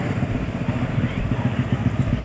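Motorbike carrying a rider as a passenger on a hill road near Rudraprayag, a steady close engine drone with rhythmic low pulsing and wind rush throughout.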